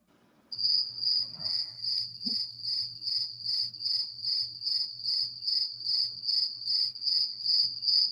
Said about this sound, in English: I'm waiting for the cricket.